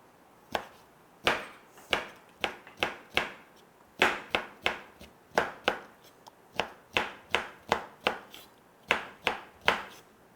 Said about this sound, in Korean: 자, 오이지를 썰어 보겠습니다.